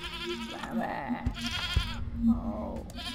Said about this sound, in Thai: โอ้เจ้าแพะ